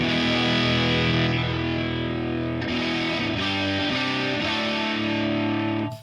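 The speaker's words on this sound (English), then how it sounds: "add a delay, where one speaker is slightly delayed" Sustained distorted electric guitar chords through a Line 6 HX processor with a stereo delay, one side slightly lagging to widen the sound; a fast, near-slapback echo trails each change, loud and steady for about six seconds.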